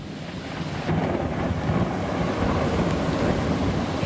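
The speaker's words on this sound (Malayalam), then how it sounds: "കോഴിക്കോട് നഗരത്തിൽ ഇടിമിന്നലോട് കൂടിയ മഴ അരമണിക്കൂറായി ശക്തിയായി മഴ പെയ്യുന്നുണ്ട്" Heavy rain pours in a steady, dense roar during a thunderstorm in Kozhikode city, with a low rumble running underneath throughout.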